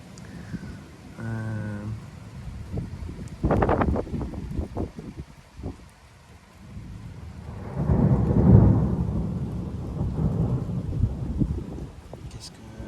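Thunder rumbles twice during a summer thunderstorm in Metz, a first low roll around four seconds and a heavier, longer one near eight seconds, with light rain and wind noise between and occasional faint voices.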